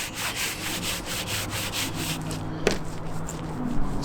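Steady back-and-forth rubbing of a clay bar across contaminated paint on a 2007 Acura TL Type-S, a continuous gritty friction sound with rhythmic strokes and one brief sharp click midway.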